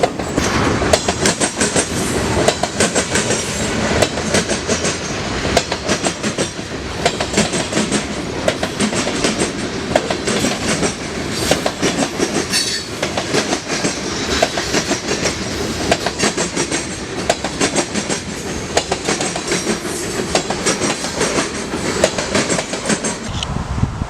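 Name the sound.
freight train locomotives pounding a rail switch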